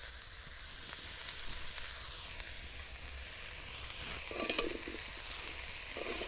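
Raw mango pieces stirred in a pan over low heat while a sweet-sour pickle is being made give a steady, close sizzle throughout, with brighter scraping strokes near the end.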